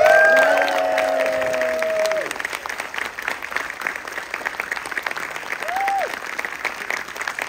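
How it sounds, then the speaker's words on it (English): Audience applause and cheering at a Friday the 13th Part 3 Q&A event, with loud whistles at the start, then sustained clapping that continues as a host talks over it. "Ladies and gentlemen, big round of applause, Brian Fuller."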